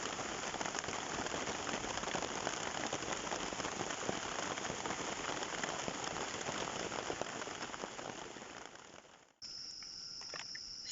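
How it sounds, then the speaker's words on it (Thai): Steady rain patters on surfaces in a forest at night, with insects chirping throughout; near the end the downpour cuts out, leaving a high insect trill alone. "ก็มีเสียงฝนกับเสียงมแมลงนะครับ"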